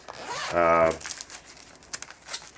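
Zipper pulled along a fabric carrying case for a Neewer LED photography light, one quick rasping run up close, followed by faint handling and rustling.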